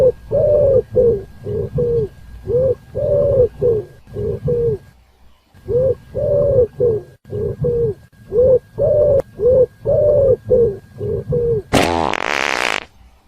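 Pigeon cooing in a steady run of short, throaty phrases repeated about twice a second, close and clear with no talking, ending in a brief burst of harsh noise.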